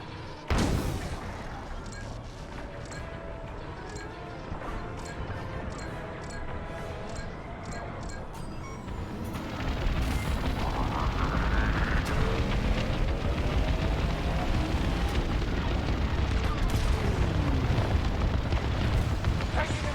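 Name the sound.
enemy fire and explosions in Star Wars: Squadrons video game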